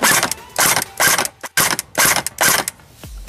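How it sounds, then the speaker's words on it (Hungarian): An APS AK-74 airsoft gun with a strong battery fires single shots: about six loud, close mechanical bursts, each a short whirring clack, separated by brief pauses. "Egyes lövés."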